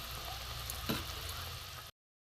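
Cauliflower masala with cumin-coriander paste and added water cooking in a pan, giving a soft, steady sizzle and bubbling with one brief clink, ending abruptly.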